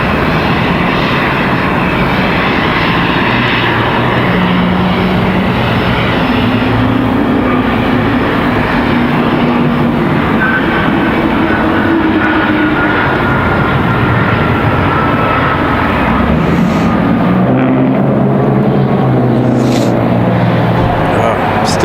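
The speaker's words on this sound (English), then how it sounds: "So this one, a Cessna Citation" A Cessna Citation CJ3 jet at RDU airport gives a loud, continuous engine roar that swells and shifts over about twenty seconds, with a person talking over it.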